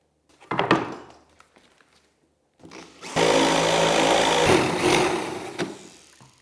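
A power drill pre-drills a 1-inch hole in a cable railing post, starting with a few knocks and brief handling sounds, then one loud sustained drilling burst that fades out near the end.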